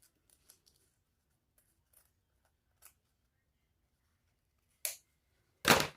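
Scissors trimming a strip of faux leather while making a tall wallet: a few faint ticks, then two loud, crisp snips close up near the end, with no talking.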